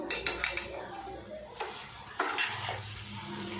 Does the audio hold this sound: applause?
no